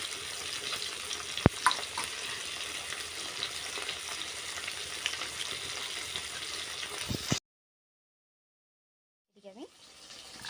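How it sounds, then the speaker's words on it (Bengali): Mustard paste is strained with water in a home kitchen while making a Medinipur-style fish sour curry. A steady wet, splashy hiss runs for about seven seconds, then stops abruptly, and a faint voice follows. "সর্ষের পেস্ট যে করে রেখেছিলাম ওটা আমি ছেঁকে নিচ্ছি"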